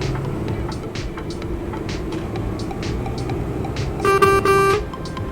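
Truck horn in Euro Truck Simulator 2 on a Turkey map gives one short, loud tonal blast near the end, sounding over a steady engine and road drone.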